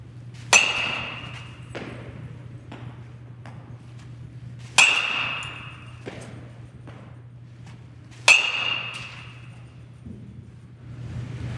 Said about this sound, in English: what Jack is going to do is he's going to swing the bat